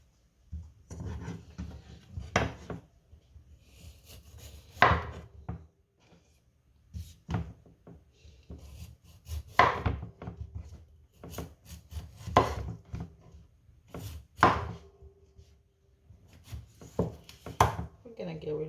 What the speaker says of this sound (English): So I'm just gonna cut them into chunks.